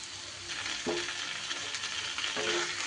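Boiled mung dal and fried coconut get stirred together in a frying pan, with a soft continuous sizzle and a couple of clear spatula scrapes against the pan.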